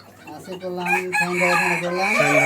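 A rooster on a farm of fancy ornamental chickens crows in one long, loud, drawn-out call, close to the recorder, with no other sound around it.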